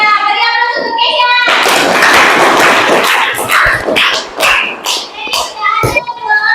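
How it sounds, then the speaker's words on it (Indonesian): Classmates in a school classroom break into applause for a student: a burst of many hands clapping together, loud and dense for a few seconds, then thinning into scattered claps with children's voices mixed in. "Beri aplaus untuk Kesia"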